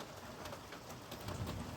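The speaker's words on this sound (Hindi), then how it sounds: "देखो जब भी भयानक सी बारिश लगी है" Heavy rain pours down during a hailstorm over orchard land, a dense, steady hiss of drops drumming on surfaces with faint rumbling underneath, continuous and fairly distant.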